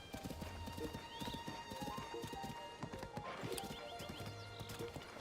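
Horse hooves clip-clop steadily in a video game, a dense rhythmic run of close hoofbeats with a brief whinny over busy game sounds and music, no talking.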